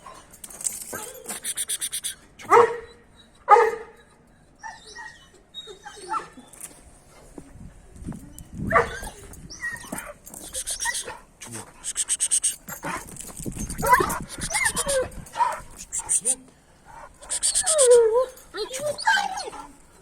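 A dog barks and whimpers in short bursts amid people talking nearby, with some scuffling movement between the sounds.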